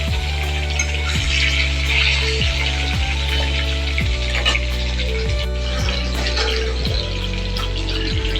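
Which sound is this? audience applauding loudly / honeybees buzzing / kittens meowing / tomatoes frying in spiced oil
tomatoes frying in spiced oil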